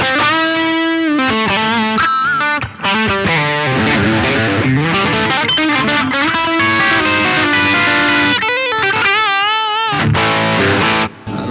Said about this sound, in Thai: เดี๋ยวผมเปิดเอฟเฟกต์เสียงแตกเหมือนเดิมอ่ะ